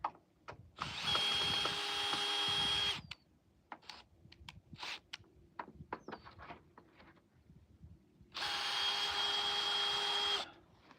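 Power drill whining in two long bursts as it backs screws out of wooden bottom boards, with clattering, knocking and handling noises between runs, no talk.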